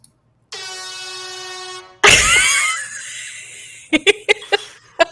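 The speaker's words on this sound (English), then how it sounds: "That's an air horn sound." A blaring air horn sound effect sounds one long steady blast, then a louder harsher second blast that fades, followed by a few quick short honks.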